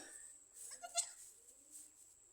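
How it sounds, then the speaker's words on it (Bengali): A newborn goat kid's thin, high bleat cries out once or twice amid quiet background noise, faint and somewhat distant. "হঠাৎ আমি ছাগলের বাচ্চার কান্না শুনতে পেয়ে"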